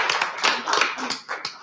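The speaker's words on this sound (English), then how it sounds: "Please join me in applauding them." Audience applauding at a city council meeting in El Centro, a brief burst of clapping from a modest crowd that rises and fades over less than two seconds.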